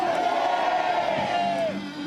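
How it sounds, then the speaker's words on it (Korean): A crowd at a March 1st Independence Movement Day commemoration at Pungnammun Square in Jeonju roars a sustained, loud collective shout of "manse," one long drawn-out cheer that fades near the end. "대한 독립 만세라는 힘찬 함성이 울려 퍼졌습니다."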